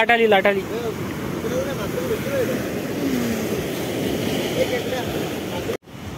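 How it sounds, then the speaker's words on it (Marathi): Ocean waves wash onto a beach in Goa in a broad, steady rumbling surge. A voice is heard briefly at the start, and the sound cuts out for a moment near the end. "लाट आली."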